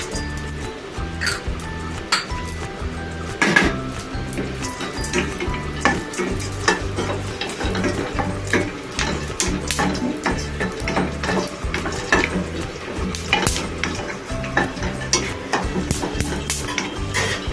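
Almonds and raisins fry in a pan while being stirred, with a continuous sizzle broken by rhythmic scraping and clinking of a spoon against the metal, close and steady.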